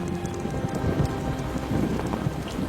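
Heavy rain pours steadily, a dense hiss with scattered thumping drops hitting a surface nearby.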